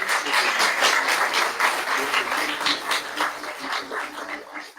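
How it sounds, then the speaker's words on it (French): An audience at an awards ceremony for Gov'athon laureates and finalists applauds loudly with dense, rhythmic clapping that holds steady and tapers slightly at the end. "On l'applaudit très, très fort."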